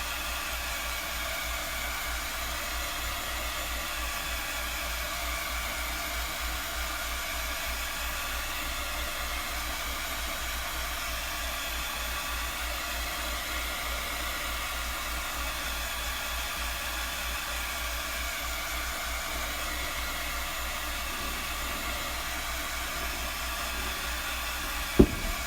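A hair dryer blows steadily to dry chalk paste on a Fourth of July vintage truck craft piece, a close, loud, continuous broadband whoosh running without pause.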